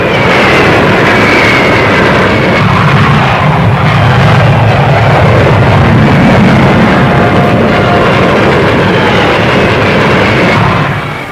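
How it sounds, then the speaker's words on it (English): An Avro 707 delta-wing experimental prototype aircraft in flight, heard as a loud, steady broadband engine roar and rushing rumble that holds throughout without letup. "The smaller Avro 707s are the experimental low-speed prototypes, while one of them, the 707C, has been developed as a two-seater trainer."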